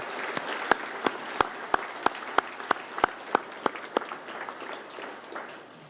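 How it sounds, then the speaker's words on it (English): Graduation ceremony audience applauding KAMS and AMS staff members, a steady wash of many hands clapping with a few sharp, louder claps standing out near the front, gradually thinning toward the end. "Let's give these KAMS and AMS staff members a round of applause,"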